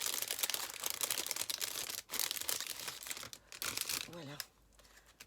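A small handmade box is handled and opened up close, with soft crinkling and rustling of paper or card and a few light taps and clicks, fairly quiet; someone speaks briefly near the end.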